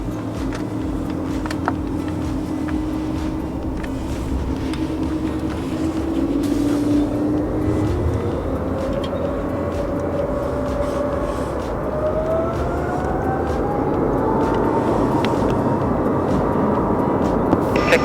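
An All Nippon Boeing 767 takes off at snowy New Chitose Airport, a steady jet roar building with a rising engine whine that climbs in pitch over about eighteen seconds, continuous and fairly loud.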